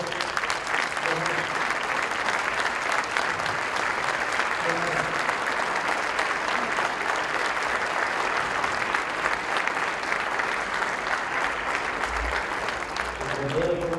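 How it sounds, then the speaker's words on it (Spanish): Sustained audience applause at a conference on city transformation in Madrid, a dense, continuous wash of clapping that holds steady for the whole stretch, with a few voices faintly underneath. "a mí me gustaría que el aplauso continuara"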